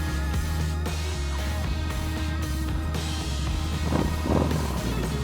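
A 2014 custom Yamaha Bolt motorcycle on the move: a loud, steady engine drone blended with heavy wind roar at the rider's microphone, continuous for the whole stretch.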